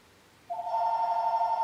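An electronic telephone ring in a music shop begins after a brief quiet stretch and sounds as a bright, steady tone that keeps going, fairly close.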